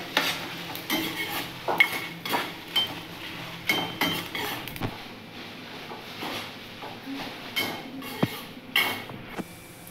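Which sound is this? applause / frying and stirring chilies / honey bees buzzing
frying and stirring chilies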